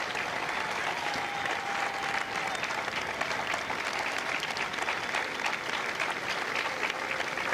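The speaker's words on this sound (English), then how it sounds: "A round of applause for their dedicated service to Corps and country." Sustained applause from a large audience at a Marine recruit graduation, honoring veterans in the crowd; dense, steady clapping that holds evenly throughout with a faint tone running briefly beneath it.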